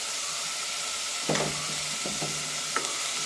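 Turmeric and salt are stirred into a pan of frying food under a steady sizzle, with a few distinct scrapes and knocks of a spoon against the pan.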